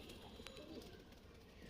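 A Giribaz pigeon in a loft collection coos softly and low, a faint murmuring call under steady background noise.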